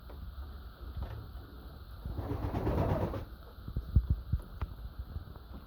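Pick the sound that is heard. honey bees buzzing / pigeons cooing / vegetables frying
pigeons cooing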